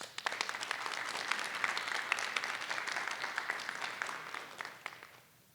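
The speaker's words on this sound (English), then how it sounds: "Another round of applause." Steady crowd applause at a Board of Education meeting, with dense, crisp clapping throughout, fairly loud, tapering off at the very end.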